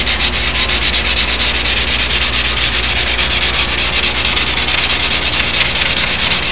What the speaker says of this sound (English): I can sit here and sand the tail a lot easier than I can when I have the whole plane banging into walls.